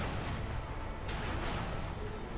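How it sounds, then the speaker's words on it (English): Cannon fire in the World of Warcraft video game booms through a dense, continuous rumble of battle noise, loud and unbroken with no clear gaps between blasts. "Oh, we got to take out that cannon. It's hurting us."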